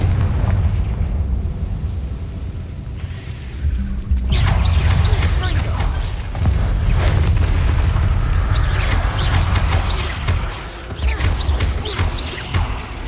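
Confringo and Bombard spell explosions from Hogwarts Legacy, heavy booming blasts rolling one after another with crackling debris, loud and continuous over a low rumble, with a voice calling out spells amid the chaos.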